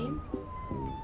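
A house cat gives a short meow, a thin falling cry heard up close indoors with faint background sound.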